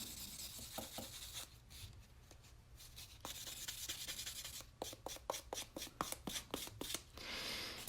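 Hand-stamped metal being buffed with a super fine buffing block: close, dry rubbing strokes that come in short bursts, then grow quicker and more regular toward the end.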